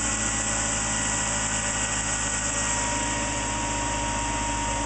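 A ReGenX generator, driven by an induction motor, running in conventional generator mode gives off a continuous, even mechanical hum and whine at constant loudness throughout, with no voices.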